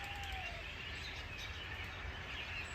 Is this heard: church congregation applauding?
no